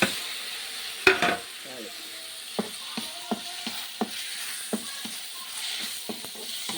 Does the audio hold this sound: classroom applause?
no